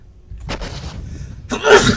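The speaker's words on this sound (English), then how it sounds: "Sneeze came too quick." A single loud, close sneeze bursts out sharply near the end, coming after a brief breathy intake.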